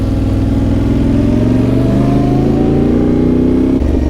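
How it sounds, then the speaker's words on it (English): An oncoming car passes on a twisty Norwegian mountain road, its engine loud and close with rising pitch as it approaches amid heavy rumble and road noise. "There's a car oncoming, you're going to meet him on the corner."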